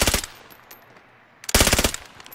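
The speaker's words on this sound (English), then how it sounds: "you're getting shot from the west now" Rapid automatic gunfire in the battle royale game Warzone: a short burst, a pause with faint distant shots, then a louder sustained burst of rapid shots, close and sharp, with no talking.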